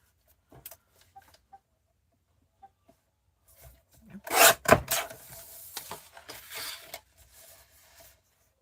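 Trimming the edge of a wood stamp, a short burst of close rasping and scraping strokes in the middle, with faint taps and small knocks before and after in a quiet room.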